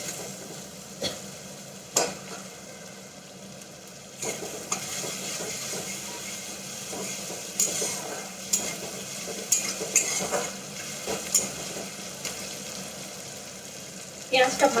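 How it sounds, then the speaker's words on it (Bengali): Onion and tomato sizzle softly in a pan, with repeated sharp clinks and scrapes of a utensil stirring against metal scattered throughout. "পেঁয়াজটা ভাজা হয়ে গিয়েছে।"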